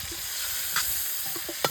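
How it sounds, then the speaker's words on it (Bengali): Cauliflower frying in hot oil in a pan, a continuous soft sizzle with a few faint clinks and one sharper tap near the end. "এই তেলেই ফুলকপিটা ভেজে নেব"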